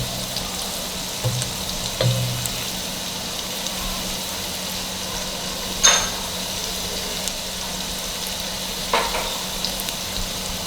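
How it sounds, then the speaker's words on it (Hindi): Onions fry in ghee in a pan with a soft, steady sizzle and a few light clinks, with no talk. "देखिए, प्याज को घी में डाला है,"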